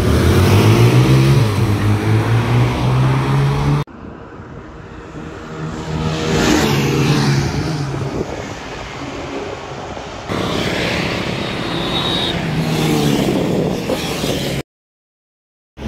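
Two Apache 160 motorcycles, a 2013 and a 2018 model, launch in a one-kilometre drag race, their engines revving and climbing in pitch through several gear pulls, heard loud and near in abrupt cut sections.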